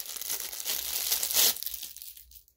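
Plastic packaging from a parcel is cut open with scissors, a close crinkling and rustling with a short louder tearing snip, then falling quiet.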